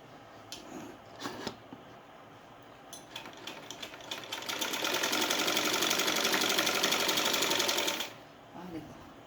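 A sewing machine stitches a seam on a salwar: a few light clicks and short bursts of handling, then a steady, close mechanical whir for about three and a half seconds before it stops abruptly.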